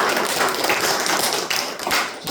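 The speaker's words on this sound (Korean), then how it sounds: "오늘 강의를 위해서 여러분의 박수를 부탁드립니다." A lecture audience at a happiness humanities seminar at Hannam University applauds, with loud, dense, continuous clapping and a few sharper individual claps standing out.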